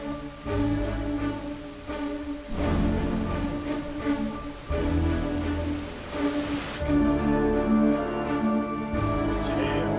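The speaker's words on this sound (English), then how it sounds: "I like rain." Steady rain falls throughout, heard as a dense, continuous wash under layered symphonic music with sustained tones, loud and close.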